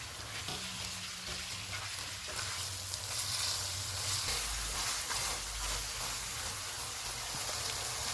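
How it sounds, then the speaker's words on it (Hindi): Half a kilo of beef mince with garlic paste fries on a stove set to full flame, giving a steady, dense sizzle with occasional scrapes and stirring clatter, fairly quiet and without any talk. "500 ग्राम बीफ का कीमा डालेंगे और इसको 4 से 5 मिनट तक भूनेंगे।"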